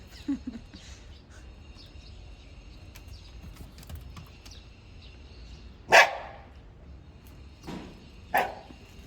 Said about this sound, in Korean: 너무 짖어서 한 바퀴 돌고 오겠습니다